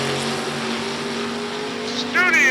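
Engine note of a 1953 Studebaker drag car with a 355 cubic inch small block Chevy, a steady droning hum held under a commentator's voice and crowd noise, swelling louder near the end.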